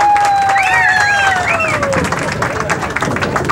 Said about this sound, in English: Lusty round of applause.